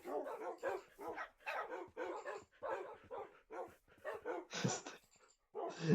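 Several dogs bark in short, rapid bursts in a Minecraft-style block game, close and fairly loud, with yips and a whimper near the end.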